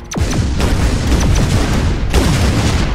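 A tank cannon in the artillery game Shellshock Live fires several loud, booming shots in quick succession, each with a sharp crack and a rumbling tail, followed by a heavier blast near the end.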